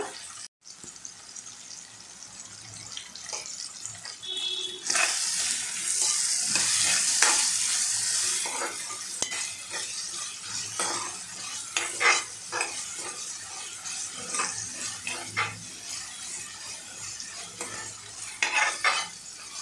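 Vegetables for an achari vegetable pulao being stirred and sautéed in a pan, with a steady sizzle of frying and repeated scraping, clinking strokes of a spoon against the metal, close and continuous throughout.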